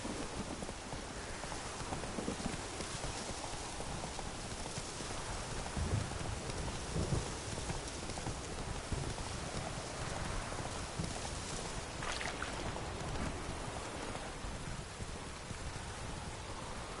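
A horse gallops through rain in The Witcher video game. Hoofbeats are buried in a dense, constant wash of rainfall, with a faint rumble of thunder.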